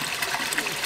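Water gushing from the Billellera fountain, a steady broad splashing rush with no pauses, heard close and fairly loud.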